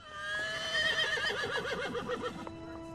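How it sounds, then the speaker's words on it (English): A horse on a film set recreating the 1919 Winnipeg General Strike gives one loud, close whinny with a long wavering call that trails off, over faint background noise. "Excuse us, horses coming through."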